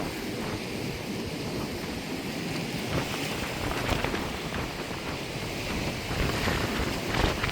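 Sea waves surging onto a coastal road, with a steady, loud wash of surf and heavy wind buffeting the microphone throughout, no voices.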